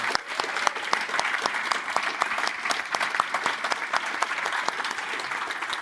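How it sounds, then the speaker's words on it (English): An audience gives a team a round of applause at the Codegarden 2024 conference, with dense, steady clapping from many hands throughout and no one speaking over it. "Let's give the whole team a big round of applause."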